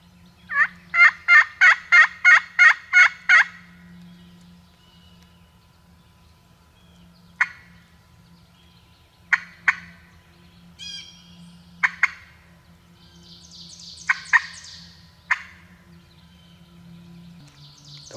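A wild turkey gobbler sounds off in a rapid run of gobbling bursts, followed by scattered shorter calls from a distance across quiet open woods.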